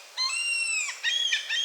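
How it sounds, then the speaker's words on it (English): Seagulls call outdoors in several high, wailing cries, one drawn-out call followed by shorter clipped ones, fairly faint and with no voices. "These seagulls are going crazy out here."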